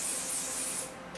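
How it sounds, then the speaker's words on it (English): Natural Republic sun spray misted onto skin, a steady close hiss that holds for most of a second, then cuts off, with a brief faint puff after. "It is a sun spray. You just shake it up and then apply it to your skin."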